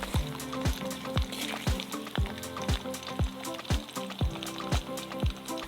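Oil sizzles steadily as garlic fries in a wok until golden, with a regular knocking of a utensil against the pan every half second or so.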